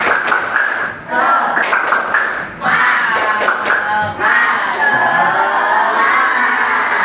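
A primary school class claps in rhythmic patterns while voices chant and shout together, loud and lively, with brief pauses between bursts of clapping.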